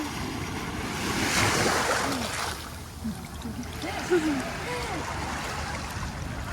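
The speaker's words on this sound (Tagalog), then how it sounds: "Malakas yung alon." Strong ocean waves break and surge on Boracay beach, a rough, continuous wash mixed with wind buffeting the microphone, with voices calling out faintly here and there.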